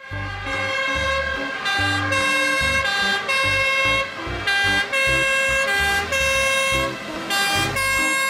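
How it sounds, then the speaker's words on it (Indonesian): A toy fire truck siren plays as a loud, continuous electronic tone with a layered, musical, wavering pattern, sounding close and steady throughout with no talking. "Mobil truk pemadam kebakaran."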